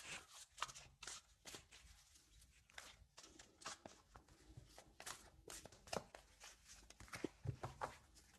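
A deck of oracle cards is shuffled by hand in a steady run of soft, close riffling and slapping bursts that continue throughout, faint and without talk.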